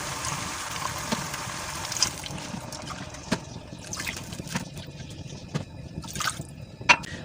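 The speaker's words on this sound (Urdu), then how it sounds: "تقریباً 3 کپ پانی ڈالیں گے اس میں" About three cups of water are poured into a cooking pot for hunter beef, giving a soft, uneven trickle with scattered drips and splashes close by.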